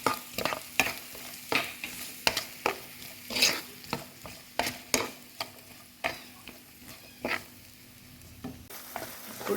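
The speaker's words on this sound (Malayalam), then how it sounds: "ഉള്ളി ഒന്ന് ഒരു ഹാഫ് രീതിയിലൊന്ന് വഴണ്ടി വന്നിട്ടുണ്ട്" Onions with salt stirred and sautéed in a pan for a Ramadan dish, a soft continuous sizzle broken by a steady series of close, sharp spatula scrapes and knocks roughly every half second to second.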